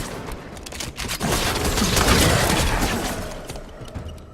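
Rapid bursts of Storm rifle fire ring out in a Halo video game battle, a dense, continuous volley that swells loud and then tapers, with no speech over it.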